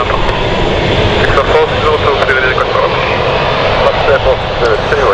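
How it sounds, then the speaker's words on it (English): A Swiss airliner on short final approach at London City Airport on a stormy night, its engine roar steady and fairly loud throughout, with a voice talking over it. "Swiss is on short final now."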